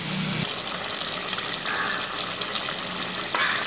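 Homemade masala of coconut, ginger, garlic, pepper and cumin being stirred into a village-style chicken liver and gizzard curry, a steady broadband sizzle and scraping under the stir, close and continuous, with a brief low thump at the start.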